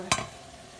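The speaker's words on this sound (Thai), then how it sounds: "นี่ก็จะเอาเห็ดลงไปเลย" Fresh mushrooms tipped into a hot pan for a stir-fry give one sharp burst of sizzling, then a steady low frying hiss underneath.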